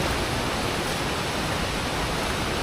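A mountain stream on a forest trek rushes loudly and steadily, a dense, unbroken roar of close flowing water with no other sounds.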